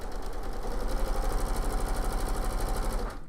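A sewing machine runs a quarter-inch seam through fabric, a steady fast mechanical whirr with rapid needle clatter, close and moderately quiet, stopping abruptly at the end with no talk.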